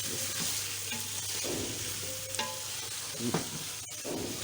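Spices and masala fry in oil for a Sindhi biryani, making a continuous close sizzle with repeated stirring scrapes and occasional spoon taps against the pot.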